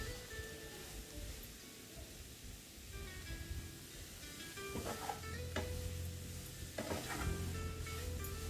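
Pumpkin leaves cooking in a pan give a steady, soft sizzle with scraping stir strokes that grow a little busier toward the end. No voices are heard.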